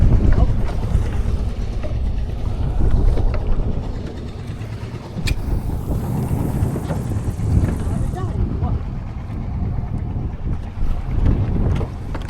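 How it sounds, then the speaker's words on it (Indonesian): Strong wind at sea on a boat roars as constant heavy buffeting across the microphone, loud and close, with a voice talking underneath. "tapi nggak tahu kenapa malah anginnya yang kencang"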